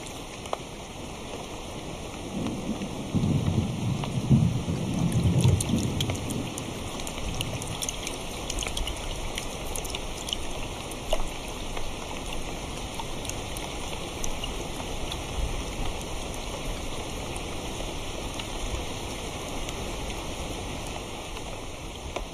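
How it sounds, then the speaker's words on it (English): A heavy downpour over a swamp: steady dense rain hiss throughout, with a deep low rumble swelling early on before the rain continues alone. "it lives in swampy hollows that often flood during downpours"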